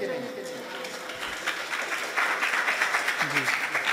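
Applause from a seated audience at a career counselling lecture, a steady wash of hand claps that swells louder and denser midway and carries on to the end, with a voice faintly mixed underneath.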